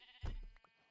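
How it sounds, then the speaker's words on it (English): A single loud bleat from a sheep in Minecraft, close and brief, with a short fainter call trailing after it. "There's some sheep there."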